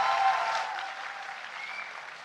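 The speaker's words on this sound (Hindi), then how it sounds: "इधर इधर भी बजाइए ताली, जोर से बजाइए ताली" Audience applause at a university convocation ceremony in a hall, a dense burst of clapping that starts loud and gradually thins and fades over a couple of seconds, with no talking over it.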